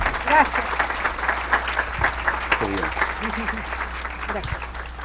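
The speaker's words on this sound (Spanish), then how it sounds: "Un aplauso para la doctora." An audience at an international congress of editors applauds a speaker, a dense burst of clapping that fills the room with voices talking over it.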